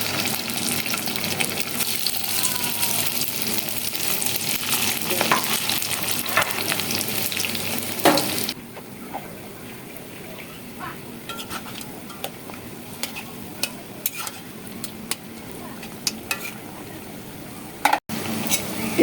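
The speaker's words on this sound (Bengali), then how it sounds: "এভাবেই আমি সবগুলো ভেজে নেব।" Ash gourd leaves fry in a pan with steady loud sizzling and stirring scrapes for the first half, then a quieter simmering hiss with scattered clicks of the utensil.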